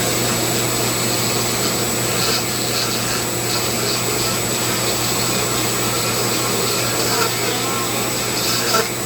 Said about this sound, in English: The hose from my shop vac plugs into it.